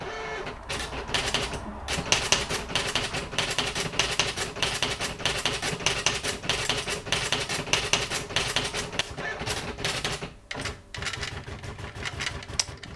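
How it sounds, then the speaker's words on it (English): Mid-1980s Olympia Standard 200i A3 electronic typewriter running a correction with a nearly dry liftoff ribbon, giving a dense, rapid mechanical clatter of strikes and carriage movement for several seconds with a brief pause near the end and no voices. "when I want to delete it will go straight back to there and it will try to erase"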